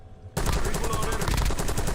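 Automatic gunfire in the Warzone video game bursts in abruptly after a quiet moment, a loud, close, rapid stream of shots lasting through to the end.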